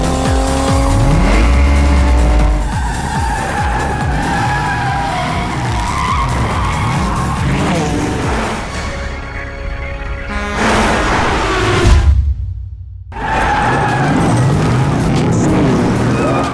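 Race cars in a film race scene skid and squeal their tires over loud, roaring engines, the sound continuous and close, with a brief silence near the end before the din resumes.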